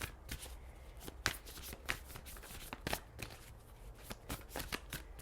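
Tarot cards being shuffled by hand, a series of quick riffling bursts and soft slaps with irregular pauses, close and fairly quiet, no talking.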